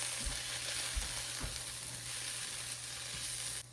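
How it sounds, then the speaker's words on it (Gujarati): Steady sizzling from a spice mixture of cumin powder, sambhar masala and salt in a pan for a street-style dosa filling, with soft stirring taps under a continuous close hiss. "કરી દઈએ ને મિક્સ."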